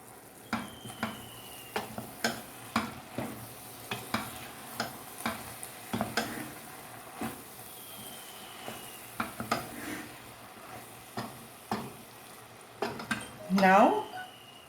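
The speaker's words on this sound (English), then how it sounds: "So we can give it a stir again." Soft cooked tomatoes being stirred in a pan, a spoon tapping and scraping in an irregular rhythm through the clip over a faint background hiss, ending in a brief louder burst.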